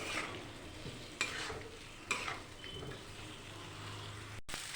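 Spices being stirred and fried in a kadai for a Bengali potato and egg curry, a steady sizzle with a few sharp scrapes of the spatula against the pan, close and alone.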